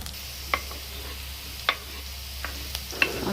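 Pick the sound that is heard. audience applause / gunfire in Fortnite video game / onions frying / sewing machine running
onions frying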